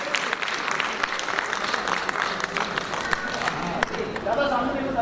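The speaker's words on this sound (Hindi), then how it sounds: "तालियों के साथ हम अभिवादन करेंगे" A crowd at a literary awards ceremony gives a dense round of clapping, with a voice speaking over the steady applause.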